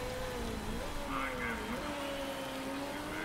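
Steady rain hisses over a motor racing scene in the MotorSport Manager video game, a continuous even wash with engine whines rising and falling beneath it and a person talking over it.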